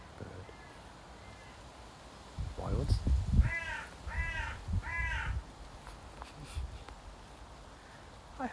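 A crow caws three times in quick succession, close and clear, in a small echoey room with hard surfaces, with low rumbling and some talk-like sound just before the calls.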